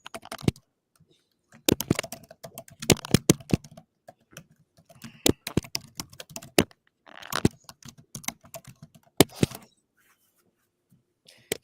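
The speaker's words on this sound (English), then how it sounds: "I hear you typing." Loud computer keyboard typing in irregular bursts of rapid clacking keystrokes, close and dry, separated by short pauses, with no talking.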